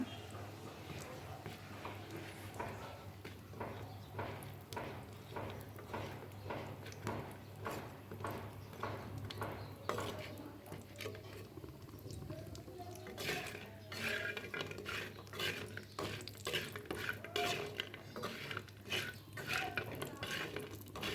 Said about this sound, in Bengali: কড়াই আমি যে পেঁয়াজ কুচি দিয়ে দিয়েছি। পেঁয়াজ কুচিগুলো ভালো মতো ভেজে নিব।